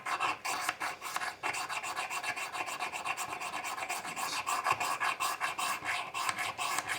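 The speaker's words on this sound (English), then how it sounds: "Just scraping away. Now it's starting to get shiny." A metal striker scrapes steadily across a Coghlans flint rod, a dense, continuous rasping with quick repeated strokes, close and fairly loud, with no talking.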